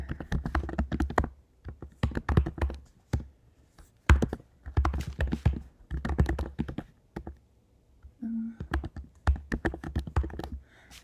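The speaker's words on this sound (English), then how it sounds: "then you're going to type in your name" Computer keyboard keys tapped in quick bursts of typing, close and fairly loud, with short pauses between runs of keystrokes and no talking.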